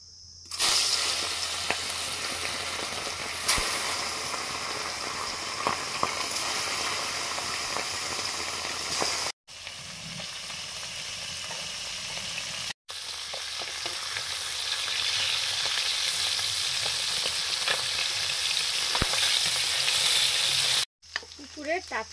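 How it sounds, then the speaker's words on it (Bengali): Fresh small pond fish fry in mustard oil with a loud, steady crackling hiss close by, broken by a few brief cuts and some faint background noise. "মাছ ভাজবো"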